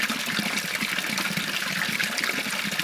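Fresh spring water pouring steadily out of a stone outlet outdoors, a continuous close gushing and splashing with no pauses.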